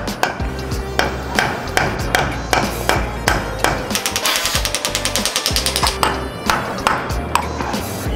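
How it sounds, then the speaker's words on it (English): Repeated metallic strikes of a brass hammer on a brass punch driving a pin ring out, sometimes spaced, sometimes in a quick run of rapid taps, close and loud with a bright ping. "Always try to use a brass hammer and brass punch on all the pins"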